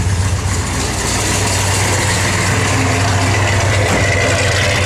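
A 1967 Dodge Coronet 440 convertible idles steadily, its exhaust giving a low, even rumble that stays close and constant throughout with no voices.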